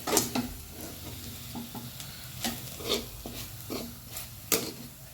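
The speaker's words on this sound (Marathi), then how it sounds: "आता याच्यामध्ये आपण खोबरं परतणार आहोत" Grated coconut stirred with onion and garlic in hot oil, a soft steady sizzle broken by irregular scraping strokes of a spoon against the pan, close and fairly quiet with no talking.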